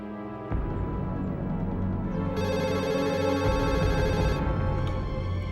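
Telephone ringing steadily while a call is placed to a school, a continuous electronic ringback tone with layered harmonics, fairly loud and alone.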